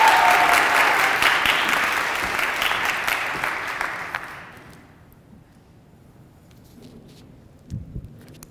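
An audience claps in welcome for an alumnae speaker, loud sustained applause that gradually fades away into quiet room tone with a few stray sounds.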